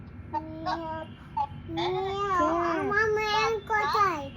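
A voice makes drawn-out, wavering meow-like sounds, imitating a cat, with a few short vocal bursts beforehand.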